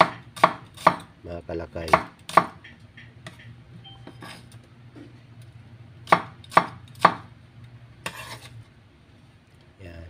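Knife chopping onion on a cutting board for chicken adobo, a few sharp close chops in quick bursts separated by pauses, with a brief murmured word.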